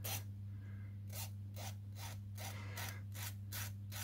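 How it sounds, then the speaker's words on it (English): A hand file rasps across the end of a small part, roughly ten brisk strokes that quicken toward the end, quiet and close over a steady low hum. "I'm going to file it now because I forget."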